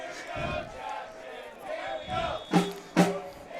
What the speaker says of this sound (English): The crowd is pumped tonight for sure.